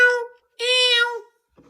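A man imitates a cat meow with his voice, giving two drawn-out vocal meows separated by a short pause, close and clear.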